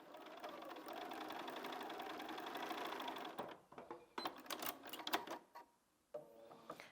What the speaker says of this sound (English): now I'm just going to sew it that way so I can just make sure that seam doesn't flip.